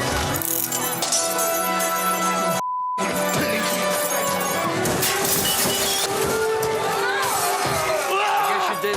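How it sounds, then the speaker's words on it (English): Glass bottles smash and tables are flipped in a violent bar-wrecking scene, a dense continuous clatter of shattering and crashing under busy voices, broken by a brief silent cut near the middle. "the smashing of the glass, the bottles, the flipping the tables"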